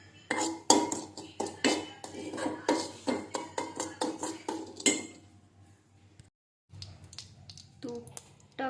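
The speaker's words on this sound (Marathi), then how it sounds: "अशा पद्धतीने रवा छान पैकी भाजून घ्यायचा आहे बारीक गॅसवर एकदम भाजला पाहिजे" Semolina roasts in a pan over a low gas flame. A utensil clinks and scrapes against the pan in quick rhythmic strokes, then goes quiet briefly before a few softer stirs.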